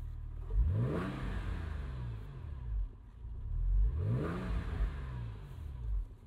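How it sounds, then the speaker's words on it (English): A Porsche 911 996 Carrera engine revs twice, each blip rising sharply then falling back to idle, with a rasping exhaust note heard up close. "Pretty decent exhaust note."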